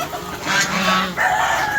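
Hens and other chickens cluck loudly and busily up close as they are let out of their shed in the morning, a continuous overlapping chorus of calls with no talking.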